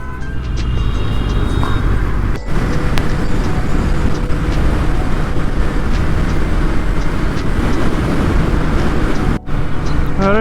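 A Honda CBR 650R motorcycle at riding speed on a highway, with a steady loud broadband roar of wind and engine running nearly unbroken, briefly dipping twice.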